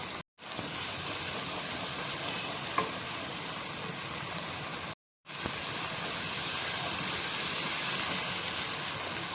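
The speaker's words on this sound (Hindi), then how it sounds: "टमाटरों के पानी में बहुत अच्छे से मसाला जो है वो हमारा भून जाएगा। खूब अच्छी तरह से इसको भूनें।" Masala frying and being stirred in tomato water in a pan for a sabut moong dal, a steady close sizzle with faint stirring, broken by two brief silent gaps.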